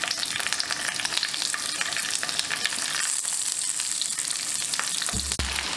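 Okra goes piece by piece into a hot pan for stuffed bhindi, frying with a loud, dense, crackling sizzle that runs steadily throughout. A brief low thump comes near the end.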